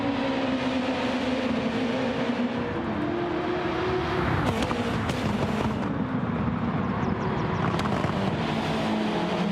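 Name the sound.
racing cars in a sim racing video game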